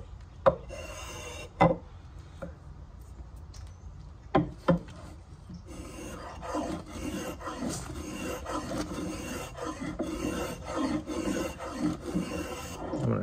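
A rasp scrapes varnish off a wooden hammer handle: a few separate sharp strokes at first, then a steady, close run of gritty back-and-forth rasping.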